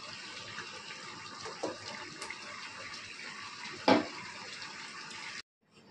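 Water pours in a steady, faint, continuous hiss with a couple of small splashes. It cuts off abruptly near the end.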